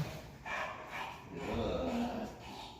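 A dog excited by its ball gives a few yips and low growling barks at moderate distance, with no talking over them.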